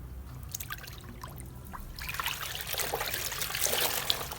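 Soft Pima cotton fabric is rubbed in a bowl of water, giving a close, continuous wet trickling and sloshing that starts quiet and grows louder and busier toward the end.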